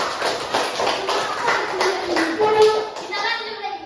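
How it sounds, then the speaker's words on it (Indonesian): Pupils in a classroom clapping together, a run of quick sharp claps over a few seconds, close and lively, with voices speaking under them. "Tepuk tangan dulu"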